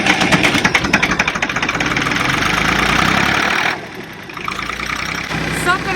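Farm tractor diesel engine idling close by, a loud rhythmic knocking chug that smooths out and then drops quieter partway through, with a voice over it.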